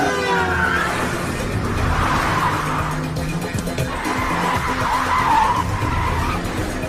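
A car tears along in a Hindi-dubbed action-film chase, tyres skidding and squealing almost without pause over a loud, steady engine roar across the whole stretch.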